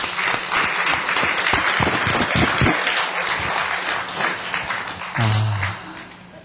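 Congregational applause at a church New Year's Day service, a dense sustained wave of clapping from a large crowd that holds steady and then tapers, with some low vocal sounds near the end.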